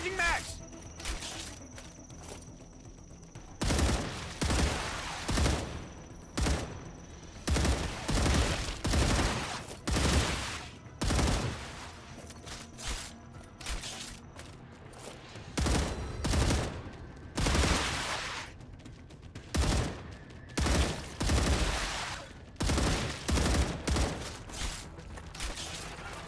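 Weapons fire in the video game StarRupture: loud, close bursts of automatic gunfire come in repeated volleys with brief gaps between them, and a voice is heard now and then.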